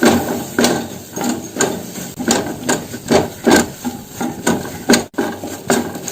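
Flour stirred into melted butter in a pan over a low flame, heard as a steady run of close, rhythmic scraping strokes, about a dozen in a row, with no one talking.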